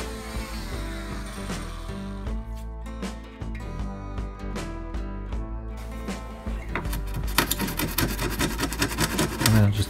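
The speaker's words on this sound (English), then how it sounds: "And then I just tidied it up with this little 1-inch chisel." A 1-inch chisel paring and tidying a square hole in wood, giving repeated scraping, rasping strokes and light taps at close range, growing busier and brighter toward the end.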